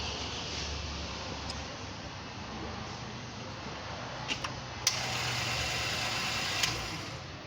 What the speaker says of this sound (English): I'm gonna switch off the vehicle and then try to restart it